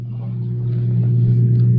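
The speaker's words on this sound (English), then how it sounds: "That's the sound of the drain pump running." A Bosch dishwasher drain pump running steadily, a close, loud low hum with a constant motor drone that swells slightly partway through.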